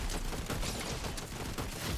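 An enemy on a hill fires in a video game, a steady dense clatter of shots blending into a continuous loud, rough roar with no pauses.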